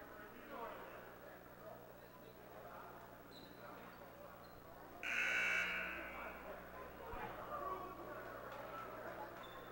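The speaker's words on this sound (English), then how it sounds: "The buzzer is heard." During a high school basketball game in a gym, Waterbury Wilby against Holy Cross, a single loud buzzer blast sounds for about a second over crowd murmur and court noise, with a commentator talking throughout.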